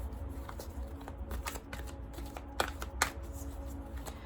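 Oracle cards being shuffled by hand in a close, steady riffle of soft papery flicks and slides, with a few sharper snaps near the end and a faint background hum.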